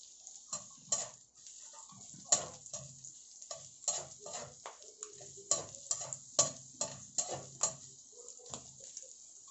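Onions frying for Chao Fan fried rice, with a steady high sizzle under repeated stirring and scraping of a utensil against the pan, several sharp clinks standing out, close and fairly quiet.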